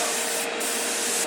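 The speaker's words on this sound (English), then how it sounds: "Certainly couldn't afford to spray this heavily." An airbrush sprays enamel paint thinned with lacquer thinner for a 1965 Impala model, a loud close continuous hiss of air and paint, steady throughout without talk.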